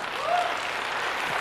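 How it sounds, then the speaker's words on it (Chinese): Thin, scattered clapping from a studio audience at a crosstalk comedy show's finals, holding at a steady level for just over a second, with a faint high whistle briefly rising through the middle. "谢谢大伙儿这帮就稀稀拉拉的掌声哈"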